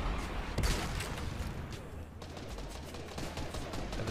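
Gunfire in the video game Boxhead: steady, rapid shots with a low rumble underneath, fairly quiet and continuous throughout, with no clear voices.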